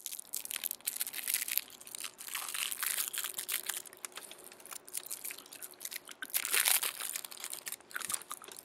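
Smarties candies are chewed close to the microphone, giving dense, rapid, crisp crunching that runs steadily for several seconds with occasional louder bursts.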